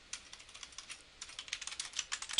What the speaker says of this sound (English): We're going to type in the information that they request